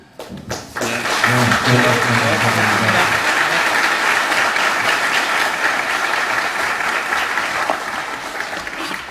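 Students in a lecture hall at Ajou University break into loud, sustained applause after a special lecture by Ahn Cheol-soo, the dense clapping holding steady for several seconds after a brief low voice at the start.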